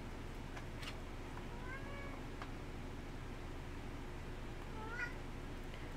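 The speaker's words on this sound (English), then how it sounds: "My goodness, kitty cat." A cat meows twice indoors, short rising cries about three seconds apart, fairly faint over a steady low room hum.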